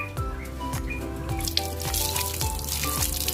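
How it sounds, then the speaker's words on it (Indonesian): Cassava slices are washed in water, giving a continuous splashing, running-water wash with small drips and sloshes, close and fairly loud with no voices. "Setelah singkong kita cuci bersih dan airnya menjadi bening"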